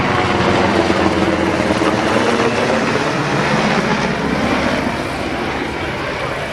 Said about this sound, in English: everyone seems to fly some version of Black Hawk, made by Sikorsky